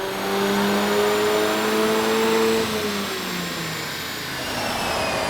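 A VW Mk8 GTI on a stage 1 ECU tune roars loudly and continuously under full throttle. The engine note climbs steadily, then drops briefly and carries on at a lower pitch.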